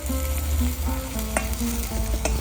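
Garlic, green chili and turmeric sautéing in a pan over a wood-fired clay stove, a close steady sizzle broken by repeated clinks and scrapes of a stirring spoon.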